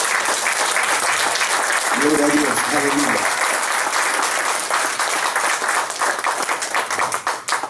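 A church congregation claps steadily and loudly throughout, dense applause filling the room while voices call out praise over it, the clapping thinning slightly toward the end.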